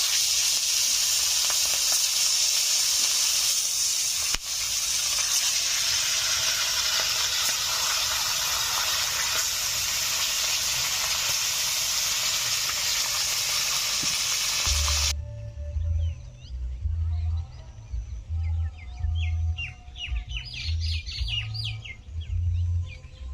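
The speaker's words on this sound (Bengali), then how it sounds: "মাছগুলোকেও ভেজে নিচ্ছি।" Big sea fish frying in hot oil, a dense, loud, continuous sizzle and hiss heard up close for about fifteen seconds, then giving way to quieter background with rhythmic low thumps and faint chirps.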